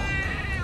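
A short, close meow, most likely a person's voice imitating a cat, with a single rising-and-falling tone lasting under a second.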